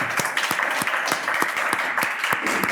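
A studio audience claps for a participant arriving on a dating show, a loud, even stretch of applause with individual claps audible in a regular, quick rhythm throughout.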